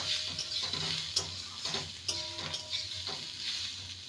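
Oats pasta with chopped coriander being stirred in a pan on a gas stove, a gentle continuous sizzle broken by irregular scrapes and taps of a spatula against the pan, quiet and close, no talking.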